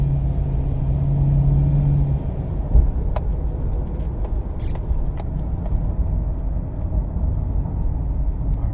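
Steady engine idle of a 2010 Ford Crown Victoria Police Interceptor rumbling close by, with a low hum and a few faint clicks and knocks over the top; no one speaks.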